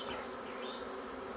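A steady, dense buzz of honeybees as a swarm arrives at a bait hive, continuous and fairly close throughout.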